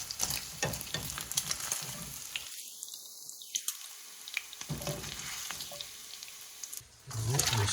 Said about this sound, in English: we're gonna fry our bacon